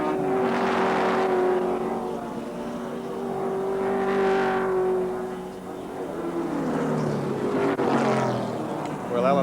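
Group C touring race cars lap Wanneroo Raceway in the 1984 touring car championship, engines swelling as they pass and fading in waves, with steady commentary over the top.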